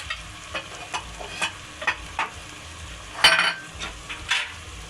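Chickpeas get stirred into a pickle-spiced masala in a pan, with a soft background sizzle and a series of spoon scrapes and clinks, one louder knock near the end, and no talk.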